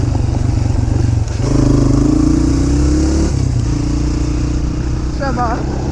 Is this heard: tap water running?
no